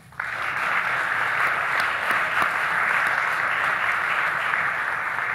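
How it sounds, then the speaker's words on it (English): A crowd at a GOP Senate candidate debate claps for all five candidates. The applause starts abruptly, then holds as a steady, full round throughout. "let's give all five candidates a round of applause."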